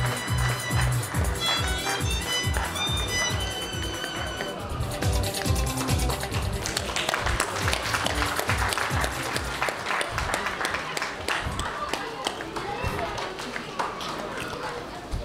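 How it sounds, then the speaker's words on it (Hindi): Applause for schoolgirl prize winners at a Bihar and Jharkhand Diwas community celebration, steady clapping from a crowd running throughout, mixed with music and a speaking voice. "ताली बजती रहे भाई, बच्चियों के लिए ताली बजती रहे"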